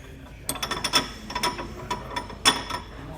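A threaded anti-rattle handle on a Hollywood Racks Destination E hitch bike rack is unscrewed, giving a run of quick, close ratcheting clicks and light metallic ticks in an irregular rhythm.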